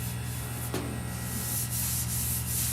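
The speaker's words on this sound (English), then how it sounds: "The 80 grit gets the metal real smooth." Car body metal is hand-sanded with 80 grit sandpaper, a close continuous scratchy rubbing with slight rises and falls in the strokes.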